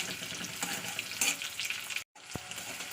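Chopped onion frying in mustard oil in a pan: a dense close sizzle with occasional scraping stirs, a sudden brief silence near the end, then a sharp knock.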